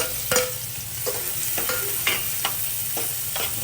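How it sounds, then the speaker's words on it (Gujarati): Green garlic and onion sizzle in hot oil with cumin and asafoetida, steady frying with repeated scraping stirs of a spoon in the pan every half second or so, close and without any voices. "હવે લીલું લસણ ને ડુંગળી નાખી દો."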